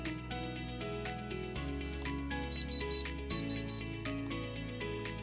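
A Diamond Selector II diamond tester gives short high-pitched electronic beeps on touching metal, in two quick groups of three over a steady, tonal background.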